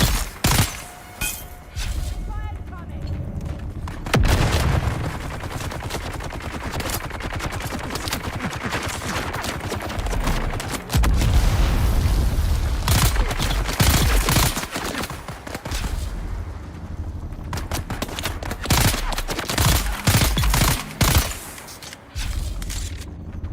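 Dense gunfire in Dune Awakening, rapid bursts of automatic weapon shots and sharp cracks fired almost continuously, with brief gaps and scattered impacts.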